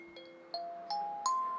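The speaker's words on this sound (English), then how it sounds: "it is a resonator kalimba" A resonator kalimba plays four soft, ringing metallic notes in a rising sequence, each tone sustaining briefly into the next.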